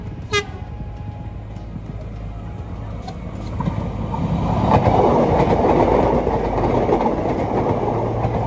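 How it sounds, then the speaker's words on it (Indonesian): An Indonesian airport rail link train approaches and passes very close by, opening with a horn toot, then a swelling rumble and wheel clatter that grows loud and rushing as it goes past. "Akan segera melintas, kali ini adalah kereta api bandara sebenarnya."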